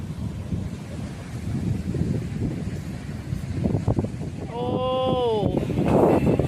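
Strong onshore wind buffets the microphone at Stanwell Park beach in New South Wales, Australia, a steady broadband roar that swells louder toward the end, with a brief tonal whine and faint voices in the background.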